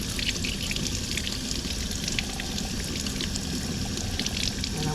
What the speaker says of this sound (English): So I'm gonna just come and run it under some warm water.